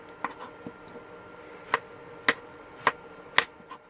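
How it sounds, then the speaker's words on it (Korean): Sharp knife taps on a board mincing green onion, a few soft ones then four distinct crisp chops at an unhurried, even pace, close by. "대파 다져주고 있습니다."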